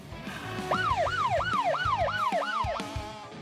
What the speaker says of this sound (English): The siren draws closer.